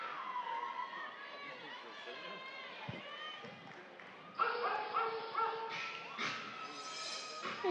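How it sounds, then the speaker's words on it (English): Dogs bark in short bursts amid a crowd's din at a college gymnastics meet, Arkansas vs Georgia, with a voice talking over it, the barking growing louder partway through. "Dogs barking."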